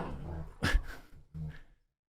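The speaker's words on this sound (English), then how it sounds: "If you hear some growling, that's just German Shepherds being turds." German Shepherds growl and grumble while playing, two close, low rumbling bursts followed by silence.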